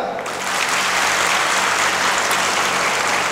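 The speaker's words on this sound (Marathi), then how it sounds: "महिला मंडळ तुम्ही टाळ्या वाजवायच्या जोरात" Women in the audience at a guidance camp break into applause that swells within half a second into steady, vigorous clapping from many hands.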